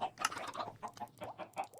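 Chickens on an automated chicken farm in the game Minecraft clucking in a quick series of short, bright clucks, moderately loud and close, with no talk.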